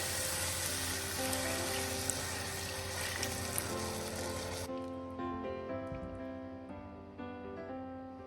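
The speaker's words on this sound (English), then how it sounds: "And now I'm going to add the rest of my stock" Stock poured into a hot, sizzling pan, a loud, steady broadband frying hiss that drops abruptly partway through as the liquid cools it, leaving a quieter simmer.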